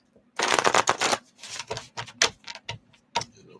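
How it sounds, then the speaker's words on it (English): Large oracle cards are riffled and shuffled by hand in several quick papery bursts of flicking and slapping, close and clear with brief pauses between. "All right, I'm going to shuffle here. Let's shuffle this up."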